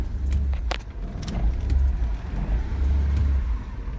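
A 2005 Nissan Quest engine accelerating, a low droning rumble that rises and swells, with a few light metallic jingles on top, close by.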